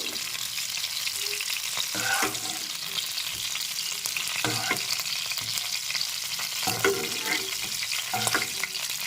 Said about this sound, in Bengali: এবার নেড়ে চেড়ে ভেজে নিচ্ছি এখন কপিটা ভেজে নিয়েছি